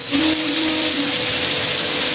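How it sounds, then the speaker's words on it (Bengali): Dried loitta fish hits hot oil in a wok, giving a loud, steady sizzling hiss that fills the whole short stretch with no talk. "এখন আমি শুটকিটা ভাজবো তেল দিয়ে দিলাম কড়াইতে"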